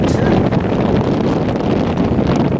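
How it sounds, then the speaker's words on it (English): Strong wind buffets the microphone outdoors at a farmhouse metal detecting site, a loud continuous rumbling roar with gusty fluctuations. "the wind blows everything"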